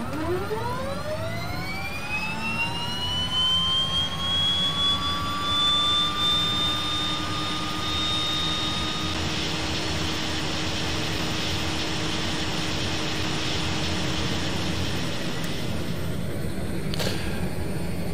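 The left turboprop engine of a DHC-6 Twin Otter starts up with a loud whine that climbs steadily in pitch, then levels into a constant, close turbine roar that holds to the end.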